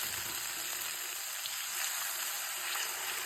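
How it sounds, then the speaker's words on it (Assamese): A moringa and mustard curry boiling in water in a pan makes a soft, continuous bubbling hiss, faint and steady with no speech. "এতিয়া মই পানী দি উতলিব দিম।"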